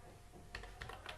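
A few soft keystrokes tap on a computer keyboard while HTML and CSS code is typed, three or four quick close clicks over a faint background hum, with no speech.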